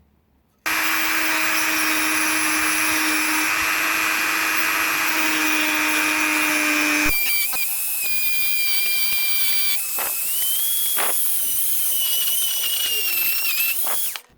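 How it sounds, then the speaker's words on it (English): A Dremel rotary tool cuts through brass lost-foam castings, giving a loud, steady high-pitched whine that shifts in pitch partway through as the cutting wheel bites and loads, running almost without a break. "cut these off with my Dremel"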